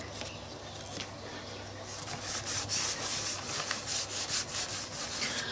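Hand rubbing over a stencil, a soft, continuous scratchy friction that swells in repeated strokes during the second half, close and fairly quiet over a faint low hum.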